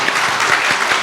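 A church congregation at a Sunday service claps, with quick, lively applause from many hands, fairly close and fading out within about a second.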